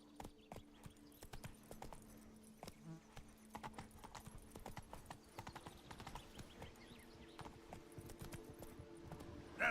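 Horse hooves clip-clop steadily in the video game Witcher 3: Blood and Wine, a continuous quick trotting rhythm of faint, close hoofbeats with game ambience underneath.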